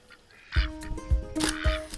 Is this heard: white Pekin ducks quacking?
yes